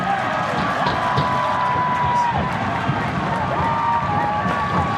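A large crowd roars continuously with rising cheers and whistles, a dense wall of sound from a packed stadium at a men's college soccer match.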